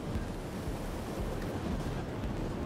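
Storm wind and crashing waves in the Battlefield Hardline video game form a loud, dense, unbroken roar with gusting surf throughout; no one speaks.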